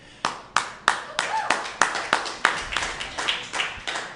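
Steady, evenly spaced hand claps, about a dozen of them, ring out close by in a room, with faint background murmur behind.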